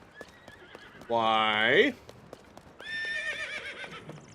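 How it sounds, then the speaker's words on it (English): A horse in the video game Zelda Tears of the Kingdom gives a loud, shrill whinny that rises and wavers, then a second, thinner neigh follows, with faint hoof clip-clops and a brief spoken word. "You're one weird horse, you know that?"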